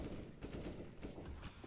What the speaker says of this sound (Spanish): Pasaron muy cerquita los tiros de AK-47 ahí.